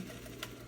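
A sewing machine runs close and quiet in a short, steady burst of stitching, its motor whirring with a faint rhythmic tick and no voices.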